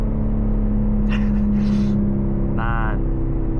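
A BMW G80 M3 xDrive Competition accelerates, heard from inside the cabin as a loud, steady low engine drone, with brief vocal sounds from the driver partway through.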